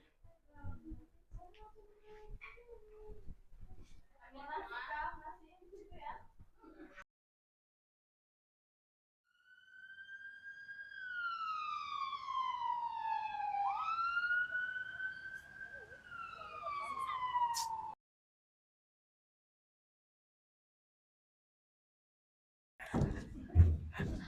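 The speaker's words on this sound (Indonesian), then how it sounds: "kenapa ada suara ambulan dekat rumah kita?" An ambulance siren wails, rising and falling over several seconds, fairly close to a house, after a stretch of muffled voices, then cuts off into silence.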